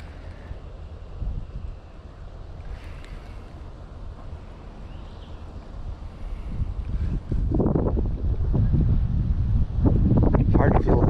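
Gusty wind blows across the microphone beside a fishing pond, a steady low rumble that swells into louder, harder buffets in the second half.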